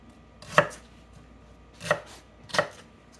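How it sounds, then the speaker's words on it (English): Knife strokes chop through onions on a cutting board, making three crisp, separate thuds at uneven intervals, close and fairly quiet against a soft room background. "So you're going to cut your onions. Cut them up."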